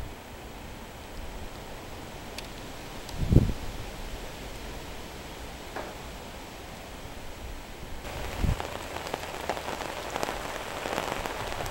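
Steady rain splashes on a canvas shelter overhead and on the ground outdoors, a dense continuous patter with a few brief louder knocks and a heavier wash of drops toward the end, no voices.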